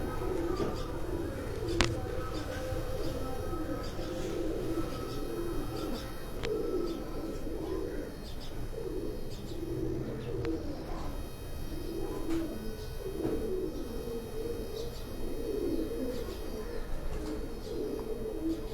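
Soft, low pigeon coos repeat from a rooftop over a steady outdoor hum, with faint chirps and occasional background voices.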